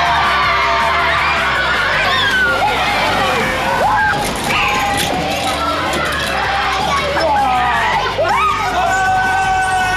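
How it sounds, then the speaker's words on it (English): A crowd at a BIG4 Soldiers Point holiday park erupts into loud, continuous cheering and excited shouting, with children's high voices rising above a dense babble throughout. "the crowd goes wild"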